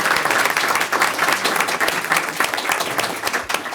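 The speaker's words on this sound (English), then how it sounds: "Please, round of applause." An audience applauds at a congressional briefing in the U.S. House, dense continuous clapping from a sizable crowd, loud and close, holding steady for the whole stretch with faint voices underneath.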